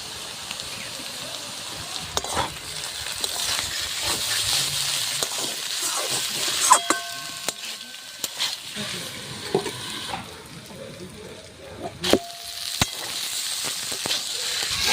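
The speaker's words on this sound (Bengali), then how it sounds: "সবজিগুলো কিন্তু অনেকটাই ভাজা হয়ে এসছে" Mixed vegetables frying in a pan give a steady hiss and sizzle, broken by scraping and clinks of stirring and a few sharp metallic taps on the pan.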